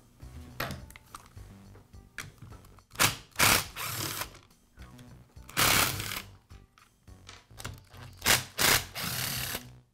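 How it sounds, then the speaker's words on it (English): Clutch cover being removed from a Troy-Bilt string trimmer during a repair: a series of close clicks, ratcheting and clattering metal-and-plastic handling noises in irregular bursts, without speech. "I'll begin by removing the clutch cover and upper shaft assembly from the trimmer."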